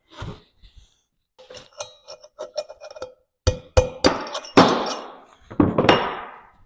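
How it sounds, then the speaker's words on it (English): Sharp metallic hammer blows on an aluminum punch, driving a part out during motorcycle sprocket work, strike in irregular bursts, some light taps and then several heavier, ringing impacts up close. "Where's my aluminum punch? I think I can hammer it out."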